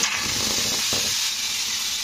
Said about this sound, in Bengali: তো এবারে আমি স্টোমাকটা আমি কড়াইয়ের মধ্যে শুকনো কড়ার মধ্যে দিয়ে দেব